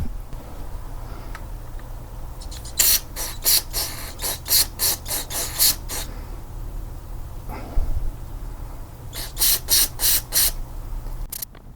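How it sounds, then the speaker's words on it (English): Brake cleaner aerosol sprayed on Jeep Grand Cherokee parts in repeated short hissing bursts, close and loud, with pauses between groups of blasts. "I'm just gonna hit it with some brake clean. That should blast all the rest of the gunk that's in there."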